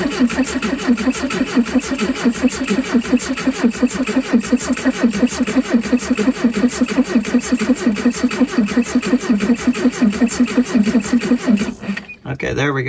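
Steyr-Puch Pinzgauer 710M engine, long parked and reluctant to start, cranking loudly with a steady rapid pulsing rhythm for about twelve seconds before cutting off abruptly.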